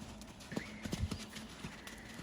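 Horse hooves strike the arena surface in an even, rhythmic canter during a dressage training session, a few close clip-clop beats with a faint whinny-like tone, no talking.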